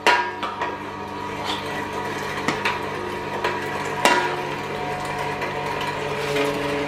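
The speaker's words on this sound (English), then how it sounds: "So yeah, new mincer." A new meat mincer grinds venison for South African boerewors sausage, a steady mechanical whir and rattle close by with occasional knocks and clunks as meat is fed in.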